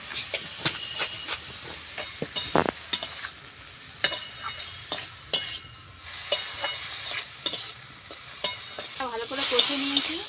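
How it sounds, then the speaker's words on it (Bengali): Spices with turmeric and salt scraped and stirred in a hot pan while sautéing for a Bengali grass pea greens ghonto, with steady sizzling hiss and repeated sharp clinks of a spatula against metal, fairly close and without talk. "ভালো করে কষে নিয়েছি।"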